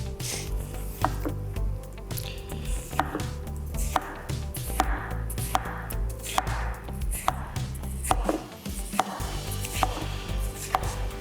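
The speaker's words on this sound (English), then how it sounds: "I have to cut those halves in half, make it a little bit easier on me." Knife chopping a quarter watermelon into bite-sized pieces on a board, a steady run of sharp, close cuts repeating about every second, each a crisp thunk over a low background hum.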